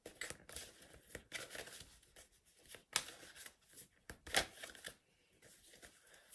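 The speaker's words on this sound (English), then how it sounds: "I'm shuffling." Tarot cards are shuffled by hand in soft, irregular bursts of papery riffling and slapping, quiet and close, with short pauses between passes and no talking.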